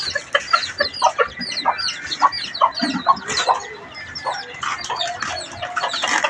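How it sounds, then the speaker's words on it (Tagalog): Several chickens cluck and chatter busily close by, a dense, continuous flurry of short calls with a few louder squawks mixed in. "Yung mga sisiw. Minsan tandang puti."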